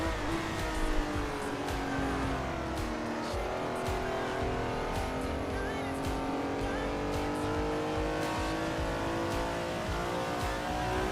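An old car lapping a racetrack in the video game Assetto Corsa, its engine droning loud and continuous with rising and falling pitch as it revs through gears, with faint tire noise underneath.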